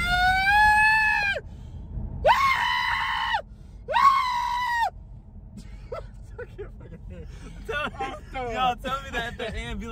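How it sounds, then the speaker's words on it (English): An ambulance siren wails in long rising-and-falling tones, three loud sweeps close by, then fades as people talk over road noise. "Tell me that the ambulance don't sound like somebody screaming."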